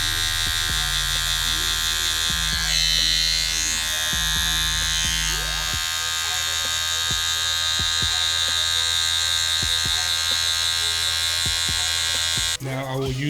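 Hair clippers buzzing steadily through a medium fade on curly hair, the motor hum shifting pitch as the blade moves against the head, with someone talking over it.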